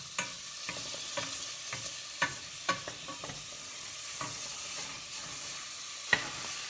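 Chunks of bacon fry over medium-high heat in a pan for baked macaroni and cheese, a soft steady sizzle broken by a series of sharp utensil scrapes and knocks as the pieces are stirred.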